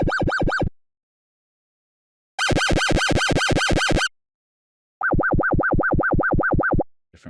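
Synthetic sine-wave warbling siren tones from Unreal Engine 5 MetaSounds in three separate bursts with silent gaps, each a rapid up-and-down electronic wail, the middle burst brighter and harsher.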